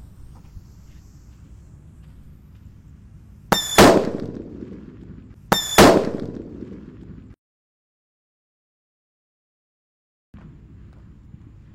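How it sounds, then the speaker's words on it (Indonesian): A Pearl Thunder jumbo firecracker explodes outdoors in two sharp, loud bangs about two seconds apart, each ringing briefly before the sound cuts to silence. "yang kita nyalakan di sini ada mercon jumbo guys, namanya Pearl Thunder. Langsung kita nyalakan."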